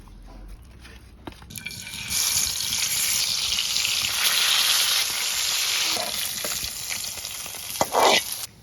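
Tilapia fish frying in hot oil in a kadai over a wood fire, with a loud, steady sizzle that swells after a quiet start and carries on with a few utensil clinks near the end, with no voices.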